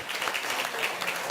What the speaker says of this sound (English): let's give them a round of applause for the incredible presentation of colors